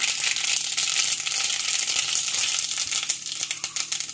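Mustard seeds crackle and pop in hot oil while chutney is being tempered, a dense, steady sizzle close by with scattered sharp spits and rattling pops running throughout, no voices over it.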